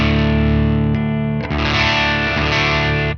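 An electric guitar through a cranked ENGL Ironball amp on its crunch channel rings out in loud distorted chords, with a sharp break and restrike midway before the sound cuts off.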